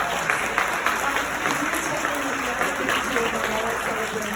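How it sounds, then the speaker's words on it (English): Guests at a celebration give the Candy Shell performer another round of clapping, a steady, fairly loud patter of many hands with voices talking over it throughout. "give the Candy Shell another round of applause"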